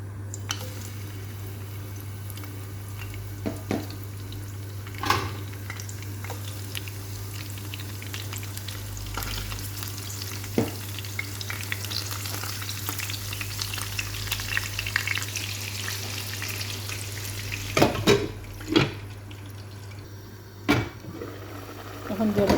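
Pieces of fish fry steadily in hot oil with a dense, bubbling sizzle throughout, broken by a few sharp utensil clinks and stirring scrapes near the end.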